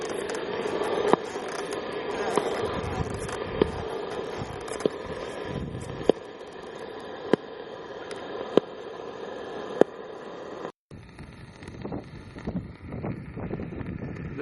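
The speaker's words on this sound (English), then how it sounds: "But most I hear white noise. That's just the atmosphere or maybe some carrier." Steady radio static from a highly sensitive antenna hisses throughout, broken by faint regular clicks and a brief dropout near the end.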